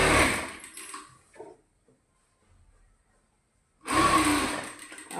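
Sewing machine stitching a slit churidar, a close burst of fast whirring needle strokes that stops, leaves a near-silent pause with a few soft clicks, then starts again loud.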